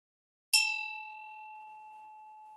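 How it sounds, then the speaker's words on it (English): A Tibetan ritual bell held with a dorje is struck once, giving a clear bright ring that sustains and slowly fades over a couple of seconds in otherwise quiet surroundings. "I hold within my hand what is called the bell and dorje."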